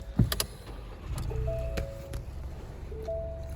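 2021 Ford Bronco Sport base model started with a key, a soft chime and brief electric whir as the ignition turns, then a low engine hum settling in, quiet and close inside the cabin, with a second tone near the end.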